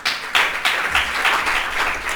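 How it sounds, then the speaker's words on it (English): Audience applause at a visual communication design showcase, with distinct, fairly rhythmic claps from a modest group, moderately loud and without talk. "Can you please give a big round of applause?"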